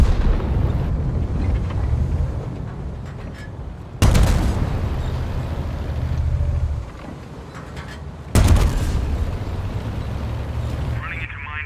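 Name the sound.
battleship artillery bombardment explosions, World of Tanks video game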